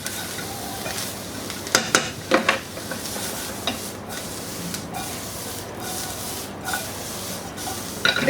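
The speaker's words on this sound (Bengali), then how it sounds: "একটু নাড়াচাড়া করে ব্রোকলিটা যাতে একটু এর সাথে ভাজা ভাজা হয়" Steamed broccoli sizzles in a hot pan while a spatula stirs it, a steady close frying hiss broken by several sharp scraping strokes and brief bursts, with no voices.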